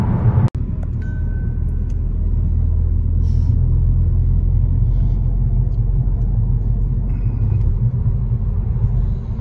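A Ford Mustang's engine rumbles in a steady, loud low drone from inside the car while driving, with a sharp thump near the start and no talking.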